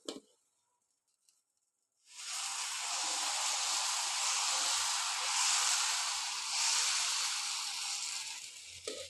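Dosa batter hits a hot iron pan greased with oil and onion and bursts into a loud, steady sizzling hiss after a couple of seconds of near quiet, the sizzle continuing close and strong to the end.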